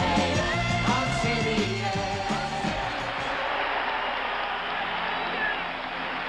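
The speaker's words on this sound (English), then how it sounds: "The crowd has come to its feet inside the Boston Garden" Boston Garden crowd rising to its feet at a 1976 NBA Finals game between the Celtics and Suns, a dense, steady roar of cheering and applause, loudest in the first half with music-like tones underneath, then settling into a broad crowd wash.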